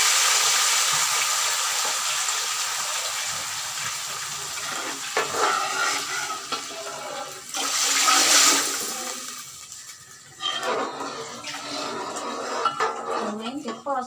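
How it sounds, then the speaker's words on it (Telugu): About two and a half litres of water rushes and splashes into a pot for rava kesari, swelling and fading in bursts, with metal clinks and a voice heard at times. "ఇక్కడ మళ్ళీ రెండు లీటర్లన్నర నీళ్ళు పోసుకోవాలి"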